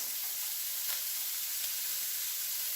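Garlic goes into a pan of sizzling onions. A steady, soft frying hiss carries through the whole stretch with faint crackles and no voices.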